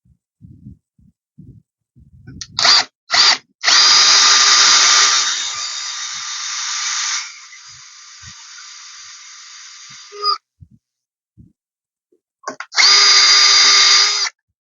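A power drill whirs in short bursts while boring 1.5 cm deep holes into a wooden house post, then runs in a long steady grind that eases lower before stopping; another burst follows after a quiet pause with faint handling noises.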